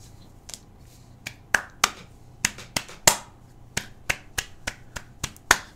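A person claps their hands sharply during a livestream, with about fifteen irregular, close, dry slaps spread over several seconds and nothing else heard.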